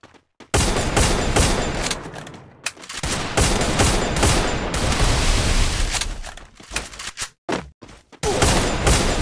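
Gunfire in the mobile shooter game Free Fire Max: dense bursts of rapid shots, loud and close, with short pauses between volleys.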